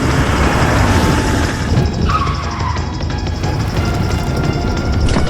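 A car chase roars along in a dense mix of engine noise and skidding tires, with a brief rising squeal midway, loud and continuous throughout with no talking.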